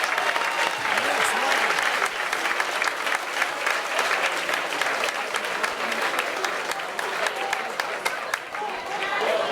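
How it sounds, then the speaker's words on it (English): Sustained applause rises from a seated dinner crowd after a live auction at a fundraising event, with some voices mixed into the steady clapping. "Give yourselves a round of applause."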